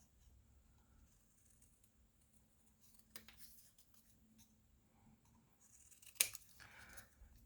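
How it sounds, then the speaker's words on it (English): Scissors snip through watercolor paper, cutting small squares in a few quiet, separate cuts with soft rustling between, one sharper snip standing out toward the end. "I'm just going to cut them with my scissors"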